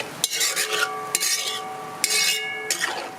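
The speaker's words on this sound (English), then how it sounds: "this metal spoon, eh? Why? Because it make a noise." A metal spoon scrapes around a pot of Trinbagonian pork pelau as sugar browns over raised heat, giving three or four distinct scraping strokes with clinks, close and fairly quiet, with no speech.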